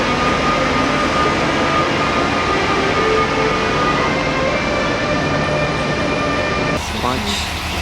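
A Deutsche Bahn train running between Berlin and Köln gives a loud, continuous rolling rumble with a steady mechanical whine. The tone shifts slightly in the last second.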